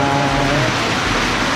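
Heavy rain pours steadily under a newly built roof, a dense, loud and unbroken hiss that fills the whole moment.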